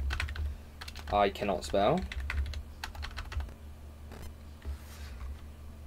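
Quick bursts of clicking keys on a computer keyboard as a command is typed, light and close, with a brief spoken remark mixed in among the keystrokes.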